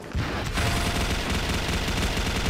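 Sustained rapid machine gun fire from a gold-black turbine machine gun (MK5) in a Vietnamese shooter video game, dense continuous bursts starting almost immediately and running loud to the end.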